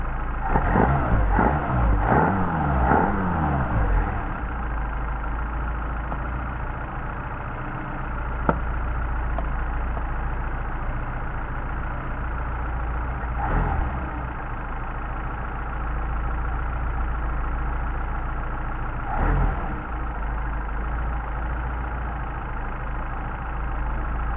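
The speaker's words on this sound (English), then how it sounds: "let's go back and blip the throttle a little bit, see how it responds" A Mercedes 190SL with a Solex 44PHH carburetor revs in a few quick throttle blips at the start, then settles into a steady, low, rumbling idle with a couple of faint later blips.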